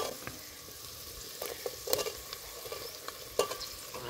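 Onions and curry leaves fry in oil for potato pulao, giving a continuous close sizzle with a few sharp crackles and spatula taps.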